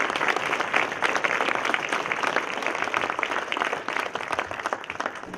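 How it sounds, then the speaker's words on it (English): A large indoor audience at a political conference gives veterans a sustained round of applause, dense steady clapping from many hands filling the room for several seconds. "Let's give our veterans a round of applause."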